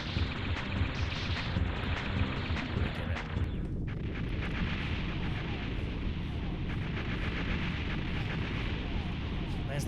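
The Fermion cannon is destroyed in the video game Silent Bomber, with a dense, continuous roar of explosions and blasts filling the whole stretch, one sharp crack standing out partway through.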